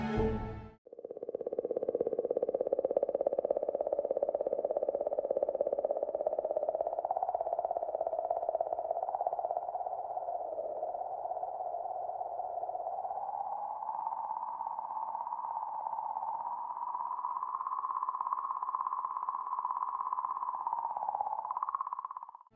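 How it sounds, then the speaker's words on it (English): Eerie recorded sound of comet 67P, from plasma vibrating in its magnetic field: a steady, loud whistling tone that slowly rises and wavers in pitch, continuous for about twenty seconds with no other sounds. "Scientists believe 67P's sound is the result of the vibrating plasma in its magnetic field."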